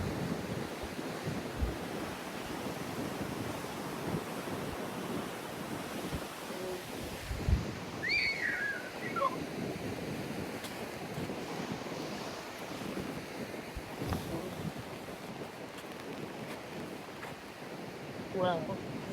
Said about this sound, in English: Look at this wave behind me. It's huge.